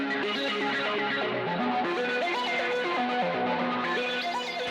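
An electric guitar plays a busy run of single notes through a modelled Fender Blues Junior amp with distortion, gritty and sustained, close and loud with no pauses.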